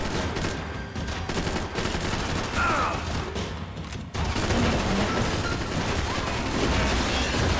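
Gunfire in the video game Max Payne 3, dense rattling bursts of shots and impacts running almost continuously, loud and busy with a brief break midway.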